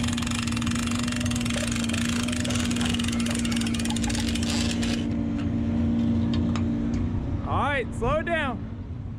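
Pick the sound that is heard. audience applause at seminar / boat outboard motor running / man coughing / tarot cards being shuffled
boat outboard motor running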